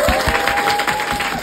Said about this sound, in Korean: 교실에 계신 여러분 박수 한번 부탁드립니다